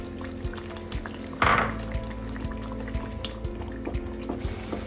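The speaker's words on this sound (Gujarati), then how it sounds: "આ રીતે તેલ છૂટું પડ્યા બાદ તેમાં ટામેટાની ગ્રેવી એડ કરી લઈશું" Tomato gravy poured into a hot pan of paneer sabji after the oil has separated from the paste, a brief splash and sizzle followed by soft bubbling and light clinks of the pan.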